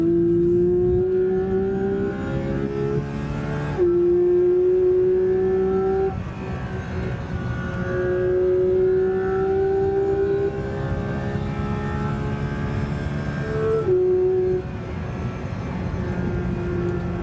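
A BMW M4 Competition G82 revs hard through the gears. A loud, droning engine note climbs steadily in pitch, then drops abruptly at each shift, about three times. It is heard from nearby without speech.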